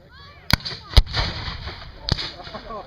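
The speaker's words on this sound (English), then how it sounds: "Now the Confederates are able to fire a smoke ring from their cannon." Civil War reenactment cannons and artillery firing, several sharp booming blasts with rolling echoes between them, loud and outdoors, with faint background voices.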